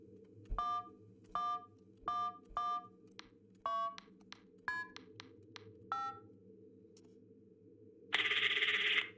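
A telephone number is dialed in the video game FNAF Into The Pit: a run of about ten clear keypad tones in an uneven rhythm, followed by a louder burst of ringing or line tone at the end.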